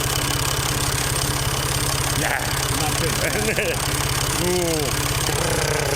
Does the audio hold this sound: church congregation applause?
no